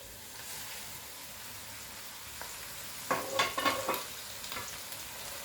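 Minced meat with carrots fries quietly in a pan for a soup, a soft steady sizzle broken midway by a few louder stirring scrapes and clatters.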